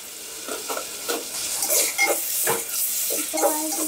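Chopped onion and tomato fry in a pan with turmeric for a crab rasam, a steady close sizzle broken by repeated scraping stirs and light clinks of a spoon against the pan.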